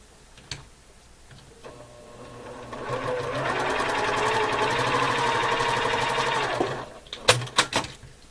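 Sewing machine stitching quilt block pieces together, ramping up to a fast, steady whirring run with rapid ticking for several seconds, then stopping, followed by a few sharp clicks and handling knocks.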